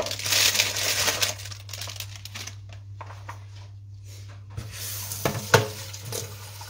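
Food being washed under a running kitchen tap, with a steady stream of water, some crinkling and handling noises, and brief knocks near the end.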